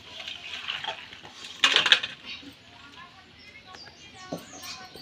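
A pot of boiled eggs is lifted off the stove with a sharp metallic clatter of pan against burner and a few softer knocks, heard close while someone speaks.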